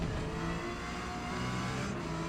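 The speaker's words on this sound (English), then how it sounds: "that's a pretty powerful engine under there, so when he gets on it, he can pull away" A 2023 Acura NSX race car in Forza Motorsport's R class at Daytona drones steadily at high revs, a loud continuous engine tone with faint harmonic shifts, no speech over it.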